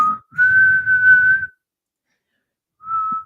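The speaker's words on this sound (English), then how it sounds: "That's a tooth whistle." A person whistles through their teeth: one sustained steady tone of about a second, then after a pause a second short note, loud and close with nothing else around it.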